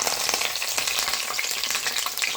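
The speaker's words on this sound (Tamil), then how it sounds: "கடைசியாக வந்து இப்போ வந்து கருவேப்பிலையை வந்து போட்டு வறுத்து எடுத்துக்கலாம்." Curry leaves crackle and sizzle in hot oil used for frying chicken pakoda, with a steady dense frying hiss and sharp pops throughout, close and loud, with no voices.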